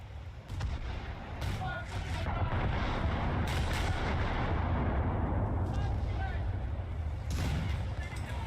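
Naval gun fire in the video game War Thunder, heavy booming shots and rumbling blasts over a continuous roar, with a few sharp reports standing out through the clip.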